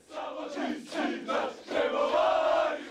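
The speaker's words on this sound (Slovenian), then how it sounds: "Po hodnikih Ljudskega vrta so po tekmi hrumele navijaške pesmi z mariborskimi igralci v glavnih vlogah" Maribor football fans chanting in the corridors of Ljudski vrt stadium after a match, a crowd of voices singing in rising and falling phrases with a sustained note near the end, reverberant and moderately loud.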